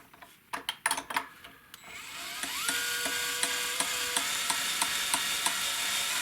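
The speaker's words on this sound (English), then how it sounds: "I'm going to use the drill" A few sharp taps and clicks, then a power drill winding strings on a Hagstrom Super Viking semi-hollowbody electric guitar whirs steadily, its motor pitch climbing and settling as it spins for several seconds.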